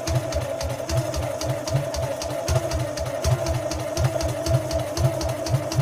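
A BMW Isetta barn-find engine cranking on its starter, giving a fast, steady, rhythmic mechanical churn that runs throughout, close and loud with no talking.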